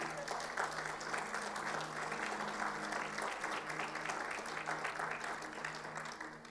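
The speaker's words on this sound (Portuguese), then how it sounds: "Você pode dar um grande aplauso ao Senhor?" A church congregation breaks into steady, full applause that fills the room and holds at an even level throughout, with a faint murmur of voices underneath.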